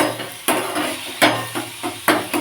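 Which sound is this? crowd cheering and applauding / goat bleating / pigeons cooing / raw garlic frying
raw garlic frying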